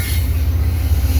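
A CP freight train passes at night, its loud, steady rolling rumble of wagons on rails filling the short stretch at close range.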